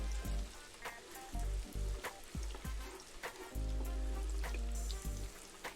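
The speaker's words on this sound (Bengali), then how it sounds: "আর মশলাটাকে খুব ভালো করে কষাতে হবে" Spices fry in oil for a potato curry (alur kopta) with a fairly quiet sizzle, interrupted by repeated stirring knocks and scrapes and low rumbling bursts, close by and without talking.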